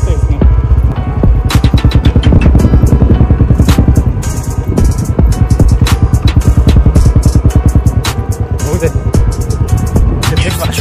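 A motorbike climbs the steep forested Marashilli hill near Ranchi, its engine throbbing loudly and close in a fast, steady pulse with rattling clatter throughout.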